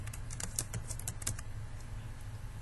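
A recipe name typed on a computer keyboard, a quick run of crisp close key clicks in an irregular rhythm that thins out toward the end, alone in a quiet room.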